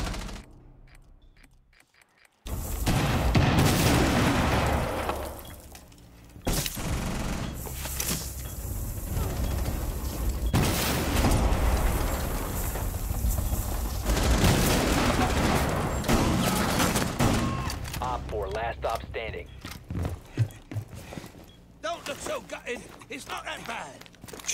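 Loud, heavy automatic gunfire in a Rainbow Six Siege match, with dense bursts and booms running through most of the stretch after a quiet opening and a player's voice speaking under the shooting.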